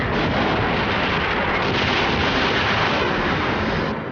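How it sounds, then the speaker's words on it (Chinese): Soviet bombing raid on Berlin, with a loud, dense and continuous roar of explosions and rumbling blasts that hold steady throughout, and no voices. "苏军已经开始轰炸柏林了"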